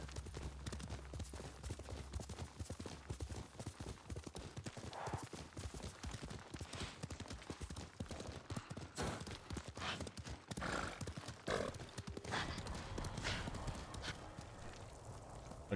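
Horse hooves gallop in the Ghost of Tsushima video game, a steady rapid clip-clop running loud through the whole stretch with an occasional whinny and faint voices beneath.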